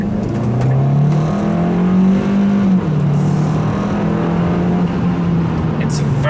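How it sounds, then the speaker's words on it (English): The turbocharged 1.6 T-GDi engine of a 2018 Hyundai Kona 4x4 with a 7-speed DCT, in sport mode with all-wheel drive engaged, pulls hard with a rising then steady drone heard from inside the cabin, loud and continuous. "Let's listen to the engine and see."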